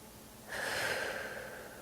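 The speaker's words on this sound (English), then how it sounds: "taking some nice depthful inhales through the nose and exhales through the mouth" One deep breath, a slow inhale through the nose followed by an airy exhale through the mouth, close and quiet against a still background.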